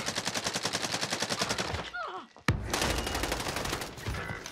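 Rapid automatic gunfire in the video game Call of Duty Warzone, a steady loud burst of shots that pauses briefly, then a sharp blast and renewed dense firing.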